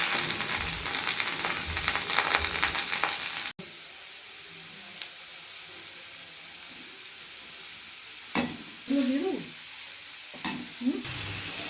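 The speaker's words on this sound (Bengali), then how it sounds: "এইভাবে নাড়ছি, আর একটু ঘি দিলাম" Grated carrots for gajar halwa fry in oil and ghee with a steady sizzling hiss that loudens at the start, then quieter frying with a few scraping stirs of a spatula near the end.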